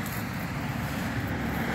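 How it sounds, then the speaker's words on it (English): Steady low rumble of road traffic near Belle River Park in Columbus, Michigan, a continuous broadband wash of passing cars carrying on in the background with no speech over it. "Excuse the noise in the background, just a little bit of traffic."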